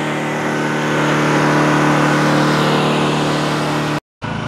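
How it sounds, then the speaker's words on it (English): A generator engine running to circulate its oil, a loud, steady mid-pitched motor drone with a constant hum, close by, briefly interrupted by a sudden dropout near the end. "I have my generator running right now just to kind of get the oil moving and running around the system"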